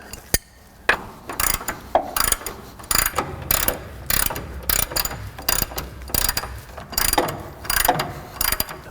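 A ratchet snugs the lower control arm bolts on a GMT400 truck front end, giving repeated rhythmic clicking strokes of about one per half second, close and crisp, throughout.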